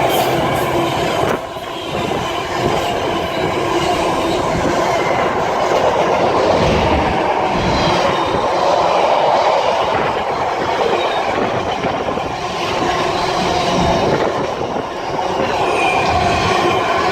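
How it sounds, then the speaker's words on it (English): A long freight train rolls steadily past nearby on the Great Eastern Main Line at Kelvedon, wheels clattering rhythmically over the rails with occasional squeals, sustained for the whole stretch. "Okay, now this is the final train of the day."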